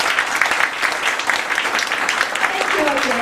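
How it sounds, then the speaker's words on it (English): An audience at a panel discussion session gives a round of applause to thank the panel members, brisk, fairly loud clapping from many people, with a voice speaking over the crowd toward the end. "May I now also invite all of you to give them a round of applause to thank our panel"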